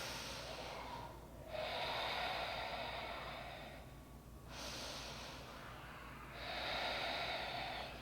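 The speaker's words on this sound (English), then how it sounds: "Steady breathing." Slow, steady breaths during a yoga class: long airy inhales and exhales, alone and fairly quiet, in a relaxed, even rhythm of about three cycles.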